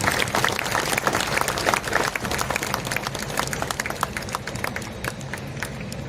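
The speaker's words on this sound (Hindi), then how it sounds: "आइए हम जोरदार तालियों से ईश्वर को धन्यवाद दें" A standing congregation at an episcopal consecration ceremony claps loudly in thanks to God, a dense, sustained round of applause from a large crowd that gradually thins out.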